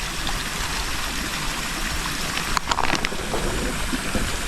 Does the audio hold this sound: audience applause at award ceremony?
no